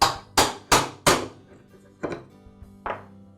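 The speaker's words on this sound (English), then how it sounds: "now again I'll tap the end of the shaft until the spool comes off" Hammer strikes on the end of a Ryobi string trimmer shaft to knock the spool free: four sharp, loud metallic taps in quick succession, then two lighter taps spaced further apart, close up with no talking.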